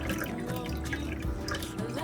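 Water is poured to cook rice on a backpacking trip, a continuous close splashing and trickling that stays steady throughout at moderate loudness.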